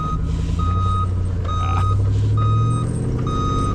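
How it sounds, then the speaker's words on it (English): A skid steer clearing snow sounds a steady series of loud reversing beeps, evenly spaced, over the continuous low rumble of its engine nearby. "my neighbor's on his skid steer clearing snow."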